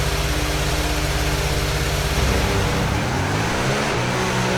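A race car engine in an F1 video game roars loud and close, its pitch climbing steadily as it accelerates through the gears, with no voices over it.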